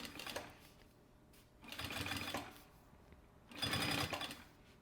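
A sewing machine runs in three bursts, stitching piping along the contours of an anti-theft backpack, each run a steady whirring hum with slow pauses between, close and alone.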